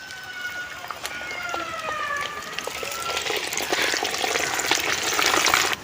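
Garlic frying in a pan with an herbal mixture containing pirandai: a bright, hissing sizzle that swells and grows louder toward the end, with faint whistling tones early on.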